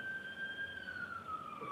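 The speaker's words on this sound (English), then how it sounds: "Hold on, wait for the ambulance, and then speak up." An ambulance siren wails outside a courtroom as a steady, slowly falling tone over a low background rumble, sustained and moderately distant.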